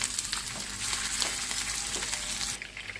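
Gola kabab frying in hot oil in a frying pan, a steady close hiss and crackle of sizzling oil throughout, softening slightly near the end.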